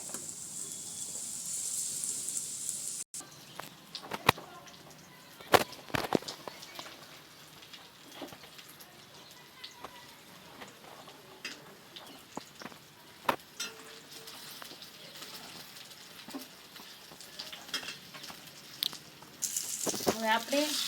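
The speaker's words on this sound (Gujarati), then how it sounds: "હવે આપણે આ ખજૂરને સરસ રીતે શેકી લેવાની છે" Dates roasting in melted ghee in a pan give a steady soft sizzle and crackle, with occasional sharp clicks and scrapes of stirring, heard close throughout.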